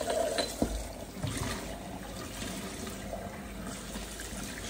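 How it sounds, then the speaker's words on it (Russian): Water pours out of a cooking pot into a sink in a home kitchen, a quiet continuous splashing trickle with a brief clatter near the start and no talking. "Давайте еще раз эту воду сливаем"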